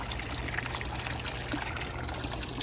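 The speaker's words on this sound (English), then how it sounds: "As you see, the water's going down there, getting filtered" Water in a Divine Camano six-person spa flowing and draining through the filter, a steady trickling pour with bubbling texture, continuous and close, without talk.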